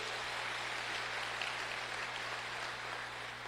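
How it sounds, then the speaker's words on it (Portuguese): Sustained applause from a congregation at a church service, a dense even patter of many hands clapping at a steady level throughout, with no voices standing out. "Vamos dar uma salva de palmas ao nosso Deus."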